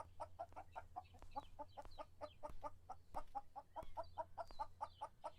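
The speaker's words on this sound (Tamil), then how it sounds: "மொட்டை கோழி கத்த சத்தம் அவனுக்கு." Chickens cluck steadily in a farming supermarket simulator video game, a rapid run of repeated clucks at moderate level over a low steady hum, with no talk.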